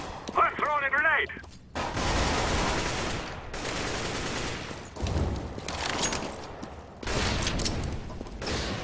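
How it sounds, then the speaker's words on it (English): Grenade blast and bursts of gunfire in a terrorists-versus-counter-terrorists shooter match, loud broadband blasts in several waves, after a short spoken remark at the start. "I'm throwing a grenade."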